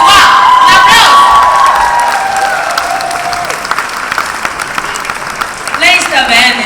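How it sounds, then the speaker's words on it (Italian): A lively crowd at the Caput Mundi Burlesque award evening claps and cheers loudly for the festival founder. Whoops and shouts ride over dense applause that gradually thins, then swells again near the end. "Un applauso!"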